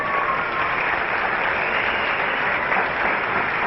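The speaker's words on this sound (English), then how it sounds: "Round of applause for Trevor." Sustained applause from a crowd at a motocross legends charity dinner in a casino venue, a steady dense wash of clapping that fills the moment with no voices rising above it.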